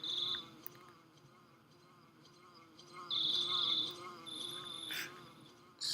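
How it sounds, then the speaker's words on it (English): A bee-like buzzing from the Earthbound video game drones faintly and steadily, with brief louder bursts on top. "Ness, Do you hear a buzzing sound? It kind of sounds like a bee flying around."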